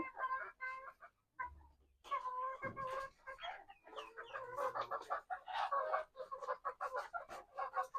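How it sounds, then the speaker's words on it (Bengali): Chickens clucking at a small poultry farm: a busy, overlapping chorus of clucks and squawks close by, with a few quieter gaps and a brief low rumble early on. "এই হলো আমাদের মুরগির খামারের অবস্থা"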